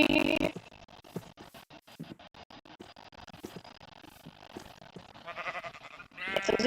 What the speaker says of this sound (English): Guess it was a sheep.